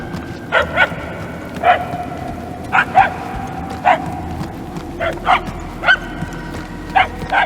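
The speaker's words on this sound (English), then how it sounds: "The barking is getting fainter." A dog barks in short paired yips and woofs at steady intervals, moderately close, over a low ambient rumble in the Guardians of the Galaxy video game.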